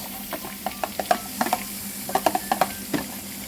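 Onion and garlic sizzle in melted butter and olive oil for beef caldereta, with a steady hiss under a string of sharp spatula clicks and scrapes as the pan is stirred.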